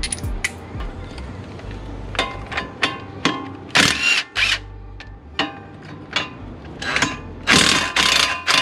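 A wrench loosening the two 17 mm bolts holding the front brake caliper on a Honda Prelude, giving sharp metallic clicks and clanks in uneven bursts with a couple of louder ratchety rasps, close up and with no speech.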